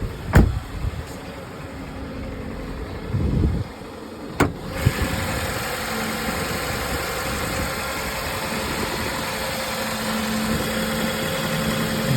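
An idling car engine with a lifter fault, recorded close under the open hood: a steady rumbling idle with a faint rapid ticking running through it, plus a few sharp knocks near the start and no speech.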